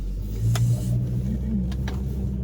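A car rumbles along at a steady pace, a low constant engine hum with road noise and a few faint clicks, heard from inside.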